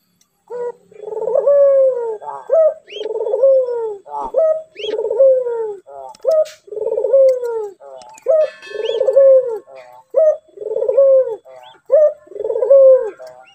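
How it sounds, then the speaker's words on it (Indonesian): A female collared dove, or puter, coos in a steady rhythmic series of soft, close, repeated calls with short gaps between phrases, clear against silence. "untuk suara si puter betina seperti ini contohnya"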